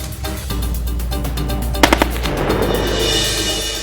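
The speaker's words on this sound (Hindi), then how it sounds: "पोस्ट पर अचानक दुश्मन की गोलीबारी।" Sudden bursts of gunfire break out at a military post, rapid sharp cracks rattling over a steady low rumble, with a tight cluster of louder shots partway through.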